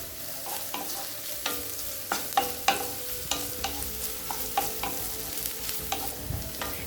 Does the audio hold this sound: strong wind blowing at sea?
no